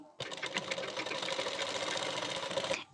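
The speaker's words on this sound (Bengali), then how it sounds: "এখন এর উপর থেকে হাফ ইঞ্চ গ্যাপিং দিয়ে একটি সেলাই দিয়ে নিচ্ছি" A sewing machine stitching the neck piece of a boat-neck blouse runs steadily at close range for a few seconds, a fast even mechanical whir with rhythmic needle clatter, starting and stopping abruptly.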